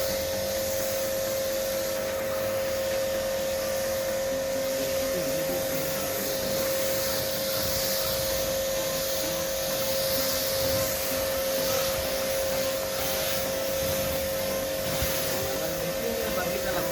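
Agaro Supreme 1800W electric pressure washer used for car washing runs with a steady, continuous motor whine and hiss that holds evenly at close range throughout, with no break in the sound.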